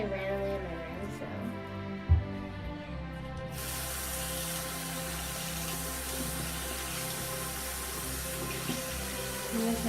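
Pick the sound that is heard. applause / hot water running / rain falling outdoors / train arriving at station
hot water running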